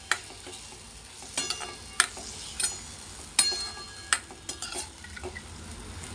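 Chopped colocasia tubers being sautéed in a pan, a low sizzle broken by several sharp scrapes and clinks of a spoon against the metal, close and intermittent.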